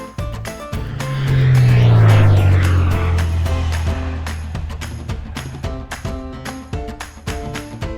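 A toy-style airplane sound effect: a loud swooping engine drone that sweeps downward in pitch, over bright electronic background music.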